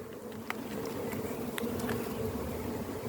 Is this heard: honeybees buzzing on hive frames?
yes